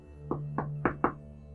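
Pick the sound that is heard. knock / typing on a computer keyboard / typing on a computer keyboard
knock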